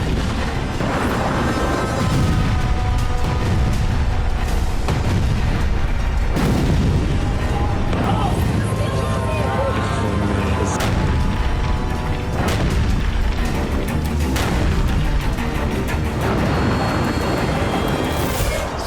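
Bombardment in the Gaza Strip produces heavy, repeated booming blasts and crashing impacts, loud and dense over a constant rumbling roar with no voices.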